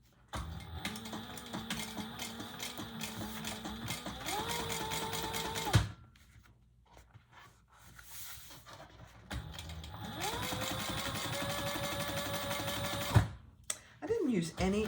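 A sewing machine topstitches a vinyl bag, whirring steadily in two close, loud runs of stitching separated by a short pause.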